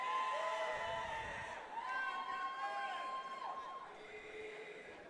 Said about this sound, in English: Crowd seems to be in favor of Cameron.